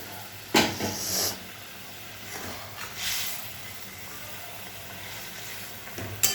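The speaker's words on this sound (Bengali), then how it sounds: "ঝোল ফুটে উঠেছে এবার মাছটা ছেড়ে দেবো" Amudi fish dropped into bubbling spicy tel jhal gravy: sharp bursts of sizzling crackle at intervals over a soft, steady frying hiss, close and moderately loud, with no voices.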